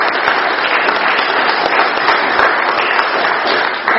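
Attendees at an Alcoholics Anonymous meeting clap for the speaker, a loud, continuous round of many hands applauding at close range, even and unbroken throughout.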